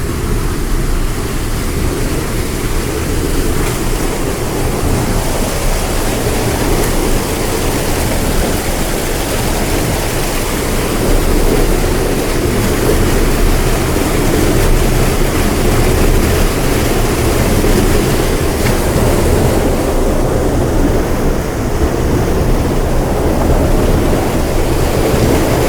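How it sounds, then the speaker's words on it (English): Water flows steadily to fill a pond at an early-morning riparian preserve, a continuous broadband rush like a small waterfall, close and even, running alone with no voices for the whole stretch. "Looks like they got some water moving over here to fill one of the ponds."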